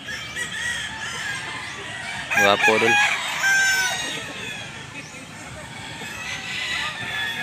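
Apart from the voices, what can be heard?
gamefowl roosters (bullstag) crowing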